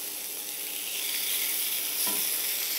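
A lamb steak fries in a pan, a steady, close hiss of sizzling with a soft scrape or stir near the end, no talking.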